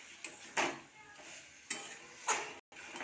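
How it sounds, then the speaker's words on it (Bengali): Spice paste being sautéed in a pan for plantain curry: a soft background sizzle broken by four quiet spatula scrapes and stirring strokes, faint and close. "মশলাটা দিয়েও ভালো করে কষিয়ে নেব।"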